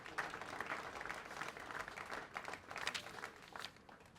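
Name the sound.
applause at Gambia Police Force ceremony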